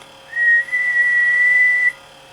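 A person whistles a steady held tone into a radio microphone as an audio test through a Transel Corp Nitro 300A reverse preamp, one sustained whistle of about a second and a half with a brief break near the start, over a faint hum.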